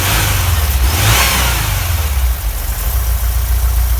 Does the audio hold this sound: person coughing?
no